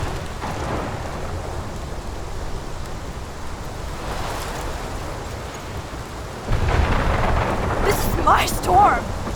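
Heavy rain pours steadily in Life is Strange while low thunder rumbles under it, then swells louder toward the end, with a brief voice heard late on.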